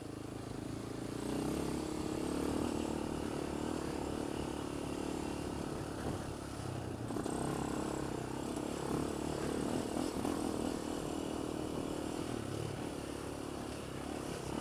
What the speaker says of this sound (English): it's a typical quad, you know. It doesn't handle the bumps as quite as well as a motorcycle